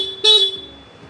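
A Honda Click 160 scooter's horn gives a single short, loud, close beep lasting about a quarter second, then fades into quiet.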